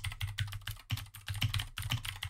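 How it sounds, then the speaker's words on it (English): Rapid typing on a computer keyboard: a steady run of close, crisp key clicks in quick bursts, heard alone with no voices. "I'm literally typing that in my notes."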